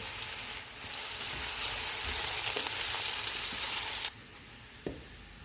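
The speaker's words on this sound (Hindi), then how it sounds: "ऑयल गर्म हो गया, इसमें प्याज डालेंगे। इनको गोल्डन फ्राई करेंगे।" Onions sizzle loudly in hot oil with a steady crackling hiss, a few stirring scrapes, then the frying drops quieter near the end.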